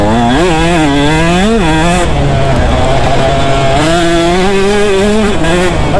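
A KTM 150 SX two-stroke dirt bike runs at wide open throttle through banked corners, its close, loud, raspy engine wailing continuously as the revs climb, dip and climb again.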